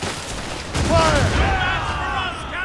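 A ship's cannon volley fired during a naval battle in Assassin's Creed Rogue: deep booming blasts rolling together, with a shouting voice over the rumble.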